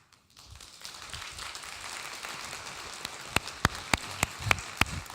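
Scattered audience clapping at a fall professional development address, starting faint and building to a soft patter, with a few sharper individual claps standing out near the end.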